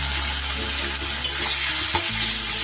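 Onion and tomato paste stir-fried in a pan for a pomfret masala, a steady broadband sizzle running throughout with faint stirring scrapes, close and continuous with no voices.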